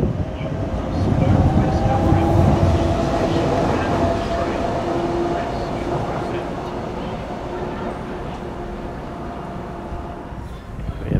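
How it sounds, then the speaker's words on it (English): A Docklands Light Railway train rumbles loudly into Greenwich station, a steady mechanical roar with a high electric whine that slowly fades as it slows. "DLR train arriving for Lewisham."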